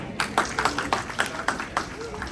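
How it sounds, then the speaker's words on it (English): Scattered hand claps from a small audience at a Vinayaka Chavithi puja in Den Haag, applauding a participant: a handful of sharp, irregular claps, close and moderately loud, over a faint background. "Can we clap for him?"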